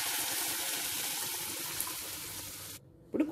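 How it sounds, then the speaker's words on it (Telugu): Water pours into a pressure cooker in a loud, steady splashing stream for nearly three seconds, then stops abruptly and is followed by a short clatter, with no talking. "ఇప్పుడు కుక్కర్లో కొద్దిగా నీళ్ళు వేసుకుందాము."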